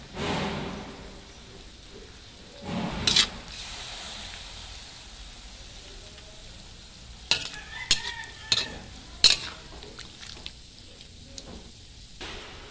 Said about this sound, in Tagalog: halo-haloin natin ng mabuti